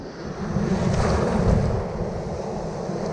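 Strong ocean waves surge and wash in a continuous roar, swelling and easing slightly, with heavy wind rumble across the microphone and no voices.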